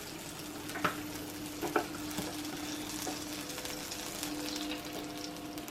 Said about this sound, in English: Here it has sizzle already, guys.